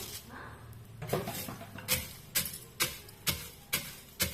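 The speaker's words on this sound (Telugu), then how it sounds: "ఫస్ట్ వేరుశనగ పప్పులను అయితే ఒక్క ముక్కగా దంచుకుందాం" Rhythmic thuds of peanuts being pounded in a stone mortar, about six even strikes spaced roughly half a second apart, close and clear.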